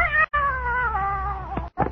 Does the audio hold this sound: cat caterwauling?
yes